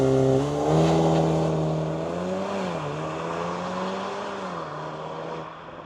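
Cupra car accelerating hard in Race mode with ESC Sport, a loud, close engine note climbing in pitch, dipping at a gear change and rising again before easing off.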